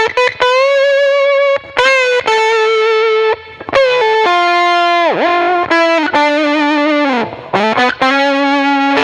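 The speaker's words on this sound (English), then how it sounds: "I'm going to copy that distortion to amp 2, and I'm going to just slightly change the tone" Electric guitar through a distorted virtual amp in Logic, sustained saturated notes with bends and slides, loud and thick, with a few brief gaps between phrases and no voices.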